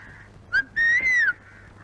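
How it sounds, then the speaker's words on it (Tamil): A woman whistles in a Tamil comedy scene. She gives a short chirp, then a longer sliding note that rises and falls, clear and close against a quiet background. "என்ன பார்த்தா விசில் அடிக்குது"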